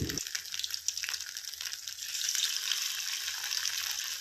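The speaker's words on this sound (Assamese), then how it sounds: "এইখিনি আমি ধুনীয়াকৈ ফ্ৰাই কৰি ল'ম" Chicken sizzles steadily in hot oil in a wok, a close, continuous crackling fry that swells slightly toward the end with no voices over it.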